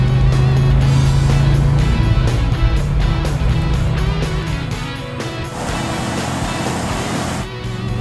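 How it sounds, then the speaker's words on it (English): A Roadrunner muscle car drives through open fields in southern Indiana, its loud, steady engine droning close by for the whole stretch, with a gear change midway that drops the pitch briefly. "Driving through the fields of southern Indiana,"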